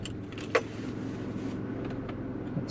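A 2003 Toyota Tacoma V6 4x4 pickup truck engine idles with a low, steady hum, a brief click or jingle near the start, and a faint higher whine above.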